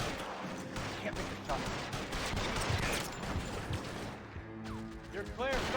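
Gunfire in the L.A. Noire shootout, dense crackling volleys of shots mixed with game noise and ricochets throughout, loud and near, with voices talking over it.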